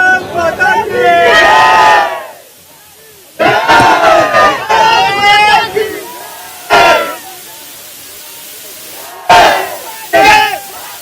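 Cricket fans erupt in loud crowd cheering and battle-cry shouts after India's victory over Pakistan, coming in several bursts separated by short lulls, with voices in the crowd yelling.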